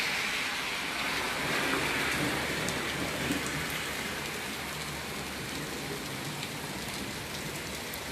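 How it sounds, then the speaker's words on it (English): Rain falls steadily on a stormy day, an even, moderately loud hiss that holds for the whole stretch with no talk over it. "I don't know why I'm talking about snow and it's a rainy day."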